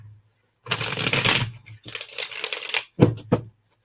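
Playing cards being shuffled by hand in several bursts of dense riffling rustle, close and fairly loud, with short pauses between riffles and a couple of quick taps near the end.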